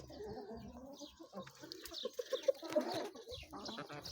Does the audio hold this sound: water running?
no